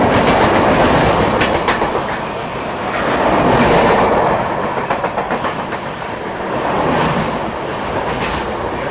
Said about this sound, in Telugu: ఇది 4వ ట్రైన్ ఓవర్టేక్ చేయడం.